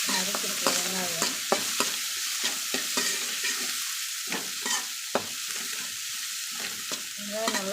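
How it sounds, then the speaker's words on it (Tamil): Sliced onion frying in a pan with curry leaves and a pinch of turmeric, a soft continuous sizzle broken by repeated scraping stirs of a spoon, close and fairly quiet. "சேர்த்துட்டு வெங்காயம் நல்லா வணக்கிக்கலாம்."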